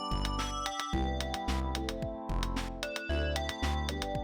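A full four-track pattern on a Sonicware Liven XFM FM synthesizer: punchy bass and drum hits in a steady looping rhythm, with strings chords and bell tones layered above, loud and continuous with no talking.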